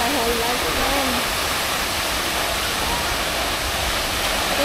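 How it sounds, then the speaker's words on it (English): Broadband roar of Jeongbang waterfall on Jeju Island, a steady, loud, continuous rush of falling water close by, with faint voices mixed in early on. "You never seen a waterfall like that?"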